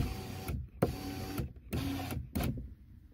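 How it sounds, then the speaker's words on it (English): A Hyundai Santa Fe power window (2013-2018 model) is lowered in several short motorized whirring runs separated by brief pauses, heard up close with no talking. "Once those are off, you can lower the window"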